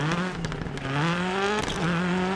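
A 2001 Ford Focus RS rally car in the DiRT Rally video game drives hard, its engine note climbing and dropping with gear changes, punctuated by sharp scrapes and impacts on gravel.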